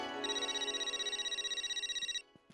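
A telephone rings in a sitcom household scene with a bright electronic warble that pulses rapidly and evenly for about two seconds, then cuts off, leaving a quiet room with a couple of faint knocks.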